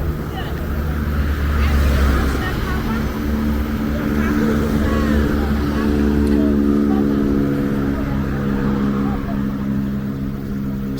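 Busy night traffic on the 37 airport stretch in Accra, Ghana, with vendors trading along the street: a steady broadband roar of passing vehicles and engine drone, close and continuous, with voices mixed in.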